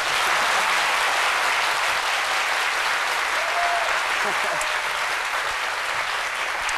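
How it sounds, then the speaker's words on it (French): Studio audience applause during a French-language midday talk show, continuous dense clapping at an even, fairly loud level with no pause. "Je pense que ça mérite des applaudissements beaucoup plus intenses que ça"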